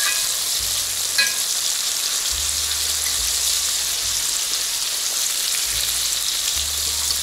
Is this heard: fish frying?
yes